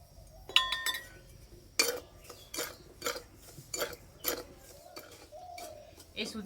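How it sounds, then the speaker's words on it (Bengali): Semolina being stirred in a metal wok over a stove with a utensil, giving a run of sharp clinks and scrapes in an uneven rhythm, close by and fairly quiet. "এই সুজি থেকে যতক্ষণ না ভাজা গন্ধ বেরোচ্ছে ততক্ষণ এইভাবে নাড়তে হবে।"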